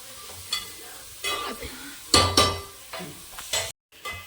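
Onion pieces fry in a pan for a drumstick curry, with repeated spatula stirs and scrapes over a soft sizzle, close and irregular, each stir a sharp burst.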